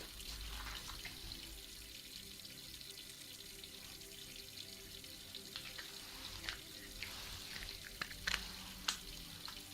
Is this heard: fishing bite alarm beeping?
no